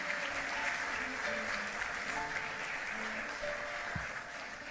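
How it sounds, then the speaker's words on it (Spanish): Congregation applauding in church during a Good Friday sermon, a soft, steady patter of many hands heard from a distance, faint and even with no voices on top. "que el aplauso sea para el Señor"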